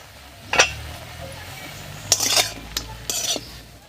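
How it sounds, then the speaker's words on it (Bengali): A pot of bean paste (shim bata) being uncovered and lifted off the stove after simmering, with a few sharp metallic clinks and scrapes of the lid and pot over a faint background sizzle, close and without talking. "এবার ঢাকা খুলে নামিয়ে নিচ্ছি।"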